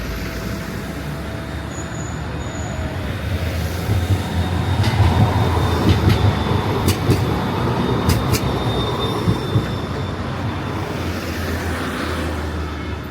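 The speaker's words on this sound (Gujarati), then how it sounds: "પછી જો આ બાજુથી આવે ટ્રેન" A train rolls past on railway tracks close by, a loud, steady rumble of wheels and cars with brief high squeals and metallic clanks running throughout, and no voices.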